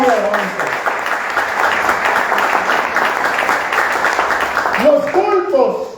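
A church congregation bursts into sustained applause, many hands clapping together in a dense, even roar with voices mixed in, swelling slightly toward the end.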